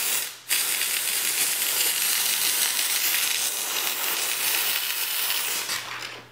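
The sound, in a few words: McCulloch MC1375 canister steam cleaner spraying steam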